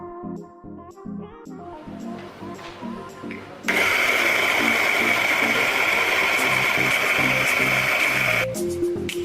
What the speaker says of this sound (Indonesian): Kalau sudah ditimbang bijinya, kita lanjut ke giling.